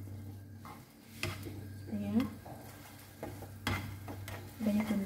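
Fried rice being stirred and mixed in a pan with a utensil, soft scraping and light sizzling in short bursts, close by, with brief talk alongside.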